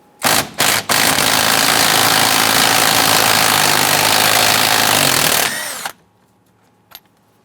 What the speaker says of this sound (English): Using a 13mm socket and extension, go ahead and loosen and remove the 13mm bolt in the center of the steering wheel.